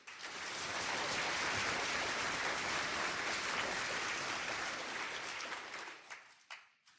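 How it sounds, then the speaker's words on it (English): An audience at a Mises Institute lecture event applauds to welcome a speaker, a broad sustained round of clapping that swells quickly, holds steady, then thins out and fades over the last second. "please give a big round of applause"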